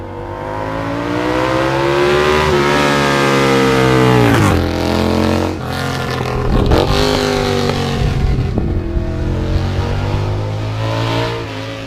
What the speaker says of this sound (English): the engine sound is just incredible